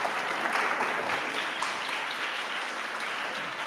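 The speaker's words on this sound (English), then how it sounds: "Give him a nice round of applause." An audience at a Grade 12 maths workshop applauding, a steady patter of many hands clapping that fades slightly toward the end.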